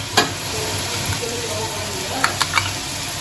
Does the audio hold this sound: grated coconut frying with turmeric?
yes